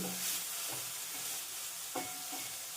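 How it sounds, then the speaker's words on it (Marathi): Sprouted moth beans are stirred into a sizzling mix in a pan over low flame, a spoon scraping in a few slow strokes over steady frying hiss, close up with no voices. "वाटीवर मोड आलेली मटकी आहे ती देखील यामध्ये घालून घ्यायची आहे मटकी देखील सर्व पदार्थामध्ये मिक्स करून घेऊ"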